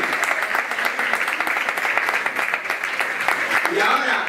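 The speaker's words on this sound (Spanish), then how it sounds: "Un aplauso para el presidente, lo está haciendo muy bien para los suyos." Members at a historic vehicle club lunch and assembly applauding their president, a burst of steady clapping from a room of people with a voice rising over it near the end.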